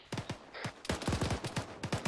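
Gunfire in an Arma military simulation game, rapid bursts of rifle shots, a few spaced cracks followed by a dense fusillade of repeated reports, fairly close and loud with no speech.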